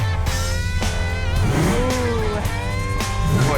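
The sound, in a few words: car engine revving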